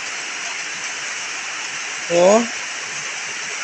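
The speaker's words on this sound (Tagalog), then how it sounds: "Uwan diri agayod sa amoa. Grabe. Ulan kayo." Heavy rain pouring steadily over a pineapple farm, a dense constant hiss throughout, with a brief spoken exclamation in the middle.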